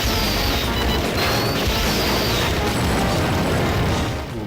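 Smart bomb explosions in the Strikers 1945 Plus arcade shooter on Neo Geo, a dense, loud, continuous roar of blasts and crashes filling the whole stretch.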